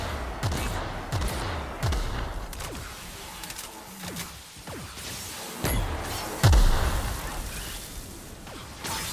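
Gunfire in The Outer Worlds video game: repeated bursts and single shots crack through a busy combat mix over several seconds, with one louder blast near the end.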